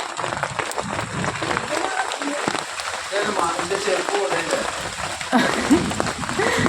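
Steady rain hissing and pattering on surfaces, with faint voices mixed into the background.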